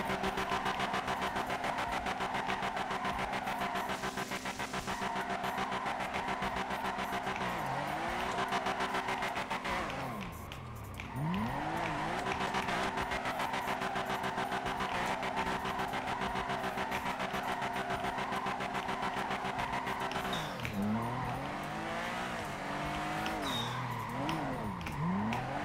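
Game car engine drones loud and constant with shifting pitch, interrupted by several tire squeals and skids as the virtual car slides through corners.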